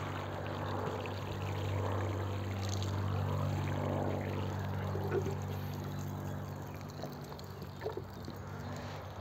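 Water is poured onto a seedling tray in a steady close trickle and splash that tapers off near the end, with a low hum underneath.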